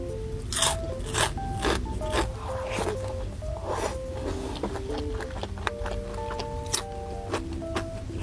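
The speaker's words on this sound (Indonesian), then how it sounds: "Ini dendeng keringnya benar-benar kriuk banget." Dried beef jerky (dendeng) crunching as it is bitten and chewed, a run of crisp, close crackles and crunches in an irregular rhythm, with soft background music beneath.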